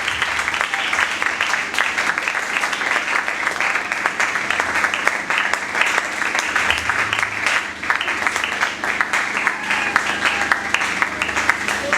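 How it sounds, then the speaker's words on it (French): A church congregation applauds steadily in praise of the Lord, a dense, loud wash of clapping hands filling the room without pause, with faint voices mixed in. "Ceux qui aiment le Seigneur peuvent acclamer le Seigneur."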